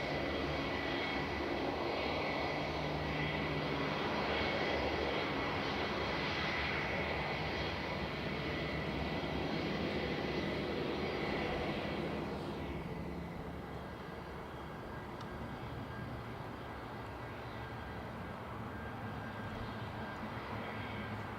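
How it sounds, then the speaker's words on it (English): An EasyJet Airbus A320 airliner arriving at Manchester Airport produces a steady, broad roar that eases gradually partway through, heard from a distance with no voices. "EasyJet coming in from Amsterdam, flight 2162, GUZHN, Airbus A320."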